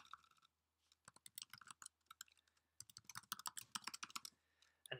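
Commands typed into a Mac terminal on a computer keyboard: quiet, close key clicks in quick irregular bursts, with a pause before a longer flurry of typing.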